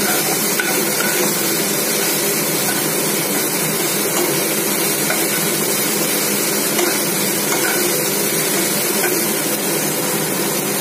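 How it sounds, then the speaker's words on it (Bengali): Chicken with chillies frying in its own rendered oil while being stirred, a steady dense sizzle and hiss running loud and unbroken throughout, with faint utensil knocks mixed in. "তারপর নেড়ে চেড়ে ভালোভাবে ওটাকে আমরা চিকেন থেকে যে তেলটা বেরোচ্ছে ওটা দিয়ে আমরা কষিয়ে নিচ্ছি।"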